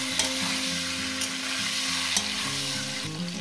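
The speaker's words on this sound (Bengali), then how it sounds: "শিমটাকে দিয়ে মিনিট 2 ধরে ভাজবো, বেশি ভাজবো না।" Green beans and green chili frying in a pan, a continuous dense sizzle with occasional stirring scrapes, close and steady, no voices.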